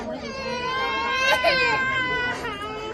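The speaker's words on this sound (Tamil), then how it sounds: "பாப்பா ஏமா அழுகுறா" A baby wails in rising and falling bursts of high-pitched crying with a short whimpering break, close and loud, at home.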